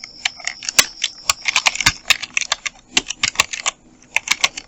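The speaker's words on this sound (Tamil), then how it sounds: "அதை நம்ம டைப் பண்ணிவிடுவோம்." Fast typing on a computer keyboard while a visiting card is designed in Photoshop, with close, crisp key clicks in quick uneven runs and brief pauses and no talking.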